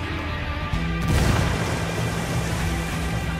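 A frag grenade detonating in Ghost Recon Wildlands during a firefight with Santa Blanca soldiers: a deep, loud boom that swells and rumbles on, filling the scene with low roar.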